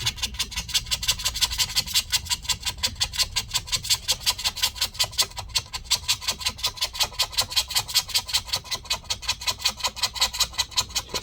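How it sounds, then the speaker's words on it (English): Rhythmic rasping scrapes of a metal scraping tool prying up the glued battery of a 15-inch 2018 MacBook Pro A1990, close and loud, repeating in quick regular strokes for the whole stretch. "I'm going to get under and we're just going to scrape this up"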